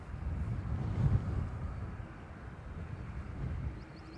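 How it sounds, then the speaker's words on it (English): Gusty wind blows at Dublin Airport during crosswind landings. It is a faint, low, steady rumble that swells slightly now and then, with no voices. "Starting to get a few little gusts now in this wind."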